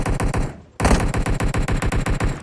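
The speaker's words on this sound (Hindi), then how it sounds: "तो गोली चल गई अपने साथ" Rapid automatic gunfire in the battle royale game PUBG, a loud close burst, a brief pause, then a steady stream of evenly spaced shots rattling on.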